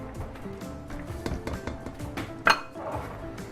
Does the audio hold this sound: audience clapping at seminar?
no